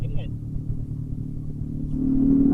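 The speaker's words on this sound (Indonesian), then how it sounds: "Ada motor Supra Fit bapak-bapak. Wih kenceng banget anjir gile." A Honda Supra Fit motorcycle speeds past on a road near the Dompak bridge, its engine a steady droning rumble that swells louder toward the end as it draws close, with excited voices over it.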